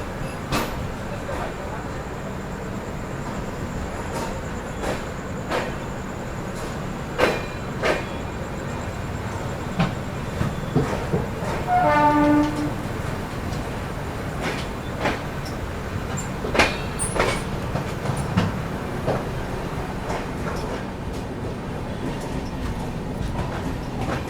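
The 12450 Goa Sampark Kranti Express pulls out of Vasai Road station in monsoon weather, a steady rumble with repeated clanks and knocks from the carriages throughout and a brief squeal midway, heard from on board.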